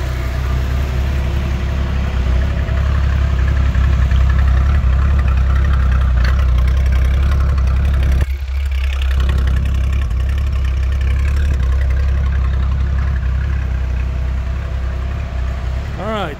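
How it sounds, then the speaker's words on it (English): A 1985 Jeep CJ7 engine idles with a steady, loud, low rumble that holds for the whole stretch, dipping briefly about halfway through before settling back to the same even throb. "That motor sounds good."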